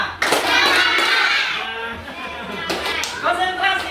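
Rapid bursts of hand clapping by a group of children, close and loud, with brief pauses between patterns and children's voices mixed in.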